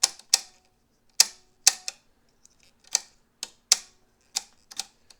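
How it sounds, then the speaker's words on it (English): Plastic knob on a White Model 510 sewing machine being turned against its steel cams, producing a dozen or so sharp, dry clacks in an irregular rhythm, close by and alone against silence. "this plastic knob that you hear me clacking around, it is attached to steel cams"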